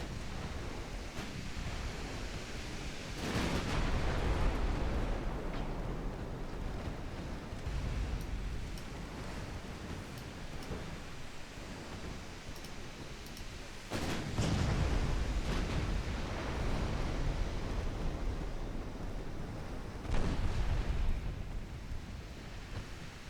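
Battleship Florida takes gunfire hits in the Super Bath Toy naval video game, heard as a steady roar of noise broken by several heavy rumbling impact bursts at intervals, with no talk.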